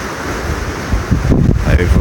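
Typhoon wind gusting hard over the sea where a Sanriku fishing boat shelters, buffeting the microphone with low rumbling bursts and a wash of wave noise, growing rougher toward the end.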